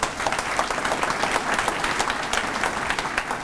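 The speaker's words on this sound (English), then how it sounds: "So please give Myron a round of applause for sponsoring us." Audience applause for a sponsor named Myron at a college leadership event, a dense, steady wash of many hands clapping at full level throughout, with no talk over it.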